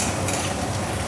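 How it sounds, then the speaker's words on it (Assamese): Chopped onion fries in hot oil in a pan while being stirred, a dense close sizzle with faint scraping, brief and unbroken. "পিঁয়াজটো অকণমান ৰঙচুৱা পৰাকৈ ভাজিম।"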